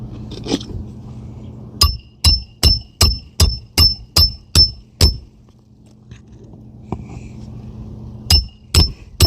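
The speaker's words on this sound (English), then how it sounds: "I'm not hammering aggressively, just enough to make sure the nail gets all the way through the decking" Roofing nails are hammered through decking in a quick run of about nine sharp, ringing strikes at an even pace, a short pause, then three more blows, close and loud over a faint steady hum.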